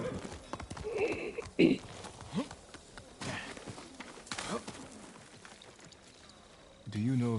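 Horse hooves clip-clopping in the video game Ghost of Tsushima, irregular hoof beats mixed with a whinny and game sounds, with voices speaking over parts of it.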